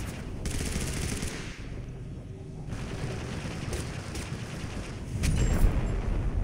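Grenade blasts from an orbital strike and a fire grenade in Totally Accurate Battlegrounds, a dense, continuous rumble of explosions and rapid gunfire crackle that swells louder near the end.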